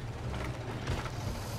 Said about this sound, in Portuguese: Eu vou mostrar pra vocês como funciona essa alavanca.